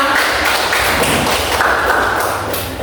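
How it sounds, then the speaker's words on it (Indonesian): A classroom of students applauding together, a loud, dense burst of clapping that holds steady from start to finish. "Oke, tepuk tangan semuanya."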